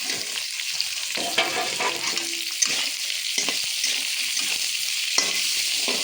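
Onion, cut into six large pieces, sizzles steadily in hot oil in a pan alongside garlic, a dense continuous crackle with a few sharper pops and spatters, close and fairly loud with no voices.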